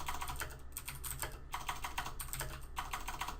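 Fingers type quickly on a computer keyboard in irregular bursts of soft close clicks over a quiet low hum, with no talk.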